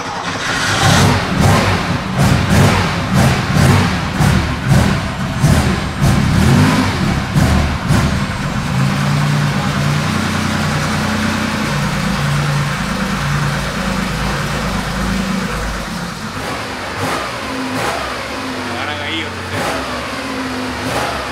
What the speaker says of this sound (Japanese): ちょっとね、温まるまでね、ちょっと綺麗にアイドリングはしないんですけどね